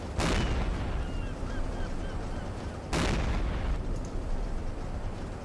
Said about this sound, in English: the minesweeper ahead of us, he is blasting away with the big anti-aircraft gun